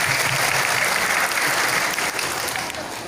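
An audience applauds at an entrepreneurship motivational talk show in Singaraja, with dense, sustained clapping from a crowd that holds steady and then tapers slightly toward the end.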